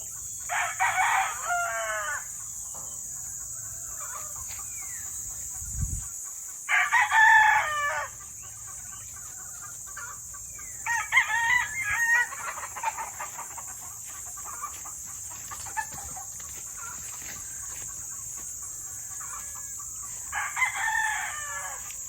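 Fighting cocks, young stags on a farm, crow several times in separate bouts, fairly close and loud, with brief clucks between calls over a steady high-pitched insect or mechanical whine.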